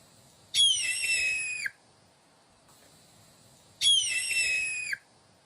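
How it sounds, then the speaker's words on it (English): Red-tailed hawk call: two long, raspy, descending screams, each about a second long and separated by a pause, sounding clear and fairly loud over quiet background. "This is a red-tailed hawk."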